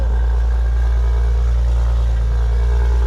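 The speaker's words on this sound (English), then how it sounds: "that Mazda got like a nice exhaust" Steady low engine drone of a Mazda car with a loud aftermarket exhaust, heard nearby at a car meet; a deep, constant idle rumble with no talk over it.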